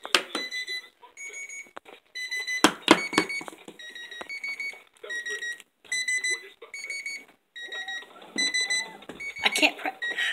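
Cartoon telephone rings in short repeated electronic bursts, several rings spaced across the stretch, with characters talking between and over them.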